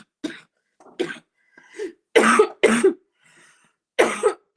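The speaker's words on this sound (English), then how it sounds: "Still not over that cough." A string of harsh coughs and throat-clearing bursts, close up, with short pauses between fits and no other sound around them.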